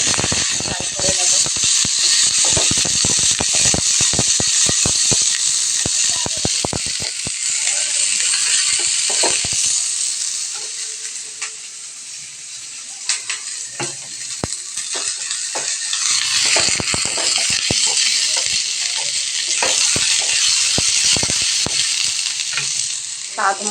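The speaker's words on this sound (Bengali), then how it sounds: "লাল ক্যাপসিকাম, কাঁচা লঙ্কা কুচি সব দিয়ে ফ্রাই করে নেব।" Red capsicum and chopped green chillies frying in a pan, a loud hissing sizzle with rapid spatula scrapes and clatter, easing briefly midway before stirring picks up again.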